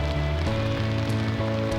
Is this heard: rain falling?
yes